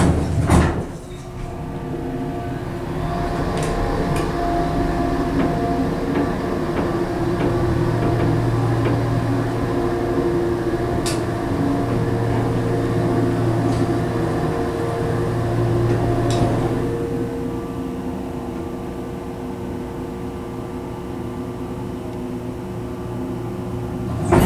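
Hydraulic elevator motor running in a building on Newell Hill Place, Walnut Creek, a steady low hum with a faint whine, plus occasional clicks and knocks, ending with a thump as the motor winds down.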